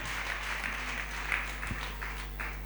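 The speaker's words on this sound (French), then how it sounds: "Acclame très fort pour Jésus." Congregation at a church service applauding and cheering for Jesus, a steady wash of clapping and crowd noise over a low hum, with no clear speech.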